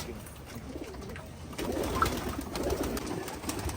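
Pigeons of several breeds kept for sale coo softly amid a low background hiss, their gentle throaty calls rising a little louder in the second half, with no voices.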